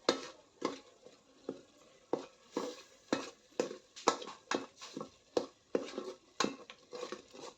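Masala being stirred and mixed into a village-style crab gravy in a pan, with repeated scraping clinks of a spoon against metal at a steady rhythm, close and fairly loud, with no talking.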